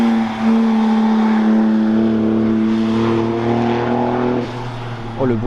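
A Porsche sports car drives past on a mountain road at a supercar event, its engine a strong steady drone that shifts pitch as it goes by, with people talking over it.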